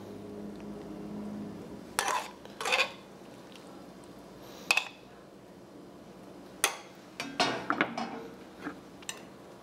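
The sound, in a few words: mixing a sherry cream sauce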